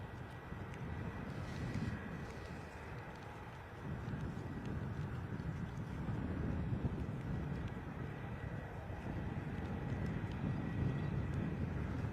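A fixed-wing airliner departs Bristol Airport in a gusty crosswind, its engine roar steady and moderately distant under constant wind buffeting the microphone, with no talking.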